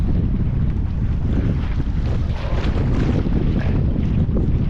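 Strong wind roars across the microphone at a carp fishing lake in France, a constant loud buffeting rush with a lapping water undertone and no voices.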